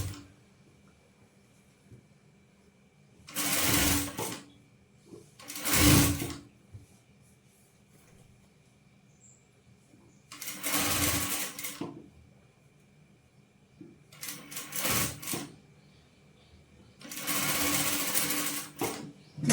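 A sewing machine stitches a kurti seam in five separate bursts of a few seconds each, with quiet pauses between runs; no talking.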